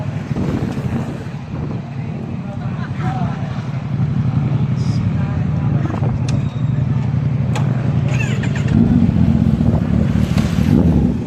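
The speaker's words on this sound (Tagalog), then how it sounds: "Napakarami pong motor." Many motorcycles gathered at a Saturday evening hangout at Kapimuto, a cold spot, make a steady low engine drone throughout, thick with wind buffeting on the microphone. The rumble swells slightly louder toward the end.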